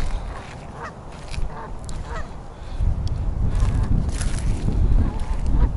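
Geese honk outdoors on a river island, with repeated nasal calls scattered over steady wind and water noise. Several birds call at moderate distance, growing busier toward the end.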